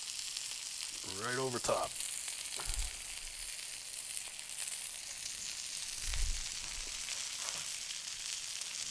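Bacon sizzles steadily on a 28-inch Blackstone griddle while smash burgers cook, a continuous bright hiss with a few soft scrapes and a brief spoken remark over it.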